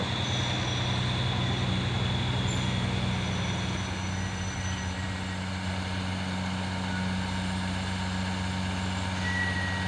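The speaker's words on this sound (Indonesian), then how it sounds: "Wah, ada lagi trailer dari belakang. Banyak kali trailer." A heavy container trailer truck rumbles past nearby with a steady low engine drone, continuous and loud, with faint higher tones over the traffic noise.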